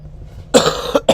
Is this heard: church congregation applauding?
no